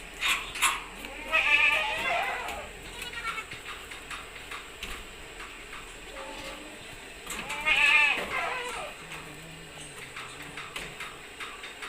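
Pet goat bleating during dehorning, a couple of loud, wavering bleats a few seconds apart against ongoing farmyard clatter and background noise.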